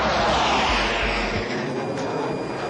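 Israeli F-16 jet bombers fly overhead in a 1981 airstrike, a loud continuous broadband jet roar with low rumbling that holds steady throughout and fades only slightly toward the end.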